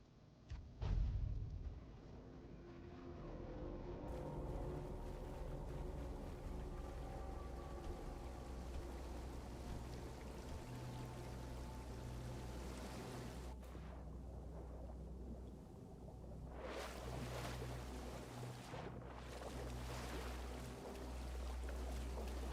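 Steady roaring rush of a waterfall in the video game Tainted Grail, a continuous broad wash of falling water holding at an even level throughout, with a few brief heavier surges near the end and no voices.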